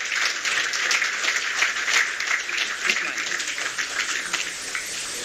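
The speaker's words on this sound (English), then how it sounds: "I'm not satisfied with that round of applause" An audience at an official launch event for the ECOWAS national biometric identity card in Nigeria applauds after a speech. The clapping is a steady, even wash lasting several seconds, with no one speaking over it.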